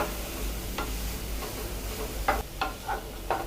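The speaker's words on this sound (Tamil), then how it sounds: "பொடியை நறுக்குன பெரிய வெங்காயம். இதை வந்து நல்லா பொன்னிறமாக வர வரைக்கும் நல்லா வதக்கணும்." Finely chopped large onions sauté over low heat in a pan for egg masala. A soft, even sizzle runs under repeated spoon-against-pan scrapes, which come sparse at first and cluster more densely toward the end.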